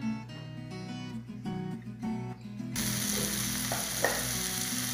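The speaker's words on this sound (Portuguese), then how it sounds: "Ela joga o tomate picado com a cebola, para dar uma fritada." Chopped tomato and onion drop into a hot pan for an omelette filling, first a quieter stirring clatter, then a sudden bright sizzle of frying that continues steadily, close and without talk.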